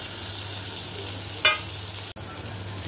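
Tomato and cluster beans (guar) frying in a pan with garlic, a steady close sizzle with a brief stirring clatter midway and a short sharp knock.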